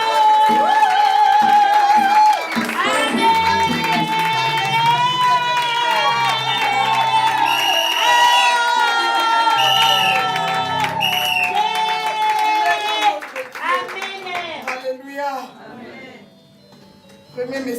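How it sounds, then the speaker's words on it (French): A church congregation of the Église la Flamme de Feu cheers and acclaims loudly, a sustained roar of crowd voices over steady music that thins out toward the end. "S'il est notre Seigneur, nous allons aller acclamer très fort."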